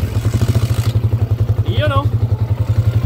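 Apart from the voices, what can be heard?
motorcycle engine being started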